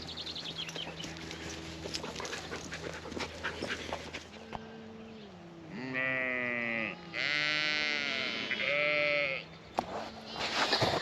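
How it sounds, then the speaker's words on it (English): Ewes and lambs bleat repeatedly at a farm gateway, several voices overlapping, loud and close, after a stretch of rustling outdoor noise with a low hum. "letting the ewes and lambs, or the lambs, get used to going through gateways"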